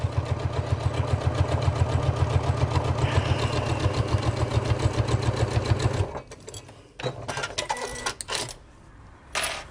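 A sewing machine runs basting stitches through layered fabric and lining, a fast, even mechanical chatter for about six seconds that then stops, followed by faint handling rustles and clicks.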